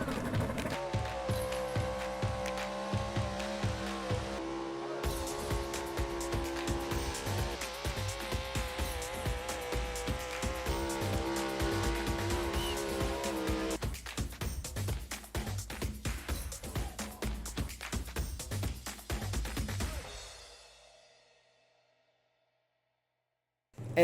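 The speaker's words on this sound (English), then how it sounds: "we have the big block, high output four-wheel drive trucks competing at the East Coast Nationals Truck and Tractor Pull" A big block, high output four-wheel drive truck roars down the track at the East Coast Nationals Truck and Tractor Pull in Fishersville, Virginia. The engine holds a loud, sustained, rattling drone for about twenty seconds, then cuts off abruptly into silence.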